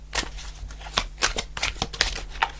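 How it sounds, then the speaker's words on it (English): Tarot cards being shuffled and pulled by hand, a run of close riffling, papery slaps and flicks in an irregular rhythm, with no talking. "Let's pull a card for this Ten of Cups."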